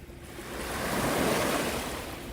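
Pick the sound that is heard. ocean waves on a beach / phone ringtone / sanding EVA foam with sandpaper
ocean waves on a beach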